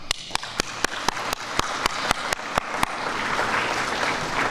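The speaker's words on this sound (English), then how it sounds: "It is with great respect that I request a big applause to the Belmont Cragin" At an elementary school ribbon cutting, sharp, evenly spaced claps repeat about every quarter second for nearly three seconds, then dissolve into a softer, diffuse spread of applause from the audience honoring the VIP parents.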